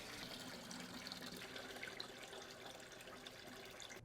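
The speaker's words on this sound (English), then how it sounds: "Now run water through the hoses for a few seconds to clear the lines." Steady rush of running water through laundry center hoses to clear the lines, continuous and even, with no voices.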